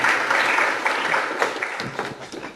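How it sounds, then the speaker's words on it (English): An audience at an afternoon educational session applauds, a short steady wash of clapping that thins out near the end, moderately close. "Let's give them a big round of applause."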